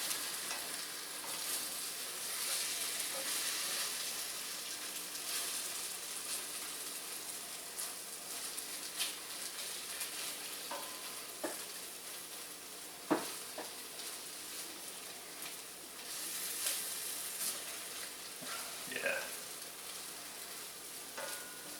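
Eggs frying in a pan for fancy scrambled eggs, a steady close sizzle that runs throughout, with a few sharp clicks and scrapes of flipping and stirring.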